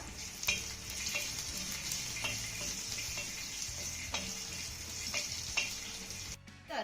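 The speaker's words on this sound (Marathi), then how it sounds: "आता हा घातलेला लसूण ना एक मिनिटभर चांगला भाजून घेऊया" Garlic roasting in a hot pan with other ingredients for a Marathi-style spicy okra thecha, giving a steady close sizzle and fry crackle with occasional stirring scrapes and no talk.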